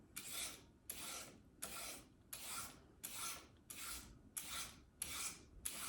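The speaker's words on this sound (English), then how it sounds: "a carrot, I'm gonna shred this just using a vegetable peeler" Carrot being shredded into thin strips with a vegetable peeler, nine quiet, evenly spaced rasping strokes close by, each a short scrape followed by a brief pause.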